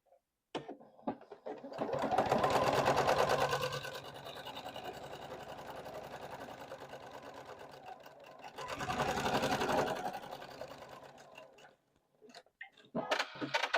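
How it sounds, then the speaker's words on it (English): A sewing machine stitches a quarter-inch seam on quilt block pieces, running in two bursts of rapid mechanical whirring with a quieter steady stretch between them, close and clear with no talk. "You're going to sew down 1/4 inch and press open."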